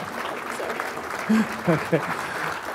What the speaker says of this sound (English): Let's give Morgan a round of applause for that